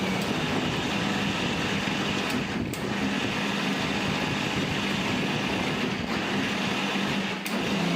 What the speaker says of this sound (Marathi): मिक्सरमध्ये आपण जे सर्व भाजून घेतलेलं ते थंड झालं आहे छानपैकी वाटून घेऊया